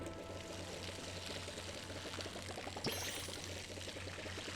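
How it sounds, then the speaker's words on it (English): Garden plants are watered in the video game Palia, a steady pouring, splashing stream of water running continuously with a soft low hum underneath and a brief splash near the end. "Gotta water it up a little."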